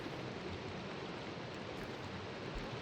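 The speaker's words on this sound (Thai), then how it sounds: "ฝนตกเลยฮะ" Steady broadband hiss of rain falling in Minecraft, a constant even wash of sound with no breaks and no voices.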